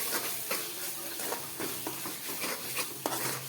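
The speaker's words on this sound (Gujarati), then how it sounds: "હવે તેમાં આપણે અડધી ચમચી ભરી અને ધાણા જીરું પાવડર પણ નાખી દઈએ। તેને પણ આપણે સારી રીતે મિક્સ કરી દઈશું।" Vegetable bhaji being stirred in a pan with chili and coriander-cumin powder, giving soft scraping strokes over a steady low sizzle, close and fairly quiet.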